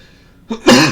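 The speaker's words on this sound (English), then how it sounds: "if you can't tell, I've got a cough" A single close, harsh cough bursts out loudly after a brief quiet moment.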